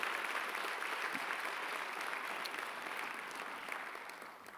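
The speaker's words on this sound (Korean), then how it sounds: "우리 하나님 앞에 감사와 영광의 박수를" A Korean church congregation at a Sunday service in Queens applauds in a dense, sustained wash of clapping, fairly distant and even, slowly easing off toward the end with no talk over it.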